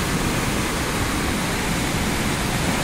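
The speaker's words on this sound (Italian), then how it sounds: "che cascata" A storm-swollen canal pours over a drop after a thunderstorm, a loud, steady roar of rushing water that fills the whole stretch without letup and with no voices.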